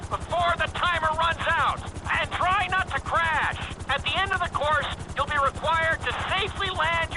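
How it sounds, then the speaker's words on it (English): A helicopter flies in Grand Theft Auto 5 during a speed-focused flight course around the city. A steady rotor hum and thump sits under continuous close narration. "This is another helicopter lesson, but with a real emphasis on speed this time."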